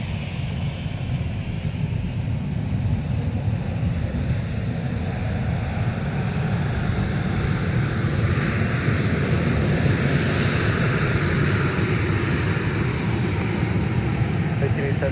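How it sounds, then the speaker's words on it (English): Sun Country airliner taxiing at Minneapolis–St. Paul airport, a steady broad jet rumble and whine held at even loudness throughout, with airport ambience and faint talk beneath. "This is Sun Country 1917 headed to Toronto."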